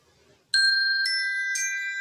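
Three bright electronic chime tones ring out one after another, about half a second apart, each sustaining and overlapping the last, loud and close after a moment of near silence, cueing the start of an exercise.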